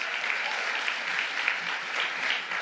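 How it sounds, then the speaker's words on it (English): An audience at a Republican political speech claps steadily, a dense, even wash of applause that runs through the whole moment without a break and with no voices over it. "Thanks for the clapping, Katie."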